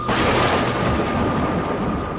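A cartoon storm effect: a deep rolling rumble of thunder over a dense wash of heavy rain, loud and continuous throughout.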